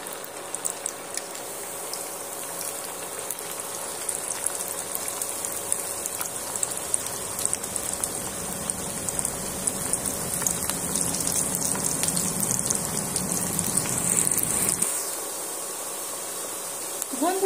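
Luchi dough pieces fry one at a time in hot oil with a fine, crackling, rain-like hiss that swells louder midway, then drops back abruptly near the end.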